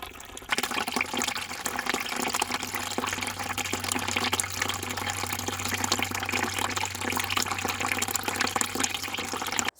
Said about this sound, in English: And I'm going to fill this 5-gallon bucket up.